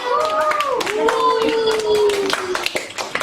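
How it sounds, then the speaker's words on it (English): Schoolgirls in a classroom clap for their teachers, scattered hand claps mixed with loud overlapping voices that carry clear pitched tones throughout. "Let's applaud our teachers."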